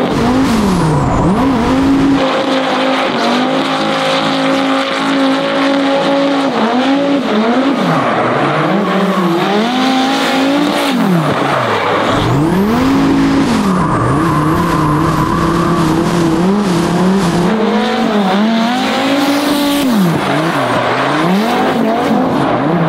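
A drift car lapping a track roars continuously, its engine pitch swooping up and down through slides, with tire squeal layered over the loud, close drone and no talking.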